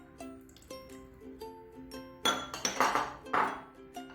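A metal saucepan on the stove clinks and rings several times, bright clanks of the pot and utensils knocking together, with a short rustling scrape, as olive oil goes in for chicken couscous.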